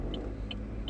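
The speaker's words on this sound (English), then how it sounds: "I got a big bus turning here." Low road-vehicle rumble from a big bus turning on a highway, a steady continuous drone with faint higher chirps over it, heard at moderate distance.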